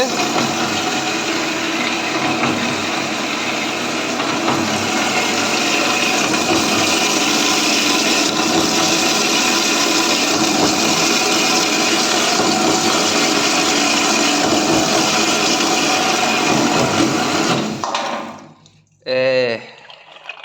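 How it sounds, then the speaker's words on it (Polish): A loud, continuous grinding whir of a Metcor BS260G band saw wet-cutting metal, its blade noisy from a chipped tooth, runs steadily for many seconds, then stops abruptly as the limit switch cuts it off, followed by a brief voice. "może być trochę słychać hałas brzeszczotu, bo po prostu ząb mi się wykruszył i jest taki hałas"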